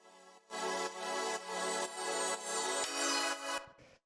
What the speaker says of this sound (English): It's this sort of like sparkly bell pad kind of sound.